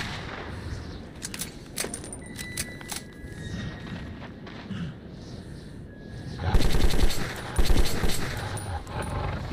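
Gunfire from a weapon in the video game Metro 2033: scattered single shots and short bursts, then a louder stretch of rapid, closely packed automatic fire near the end, with no talking.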